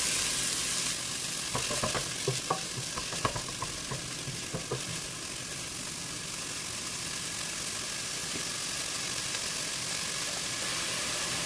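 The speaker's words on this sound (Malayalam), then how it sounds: "സവാള ട്രാൻസ്പെറൻ്റ് ആവുന്ന വരെ നമുക്കൊന്ന് വഴറ്റി കൊടുക്കാം." Onions sautéing in a pan for egg fried rice give off a steady, close broadband sizzle, with a few scattered stirring scrapes early on and no voices.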